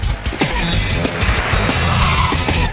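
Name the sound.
electric car driving fast on a track, tires squealing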